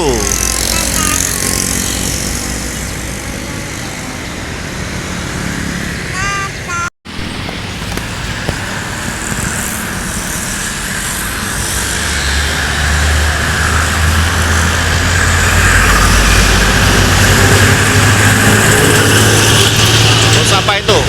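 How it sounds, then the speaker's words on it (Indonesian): Convoy of intercity buses from Padang to Jakarta, including ANS and Transport units, rolling past with a loud, sustained engine rumble that swells toward the end, amid constant background noise. "Ada unit bus lagi, konvoy."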